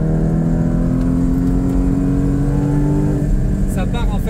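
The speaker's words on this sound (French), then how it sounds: "ce que vous pouvez noter sur le GT4 c'est le bruit parce que ça grimpe à 7500 et vous voyez qu'en fait là c'est encore assez rauque" The flat engine of a Porsche Cayman GT4 981 revs up toward 7500 rpm with a raspy, steady drone that rises in pitch, recorded from inside the car with someone talking over it.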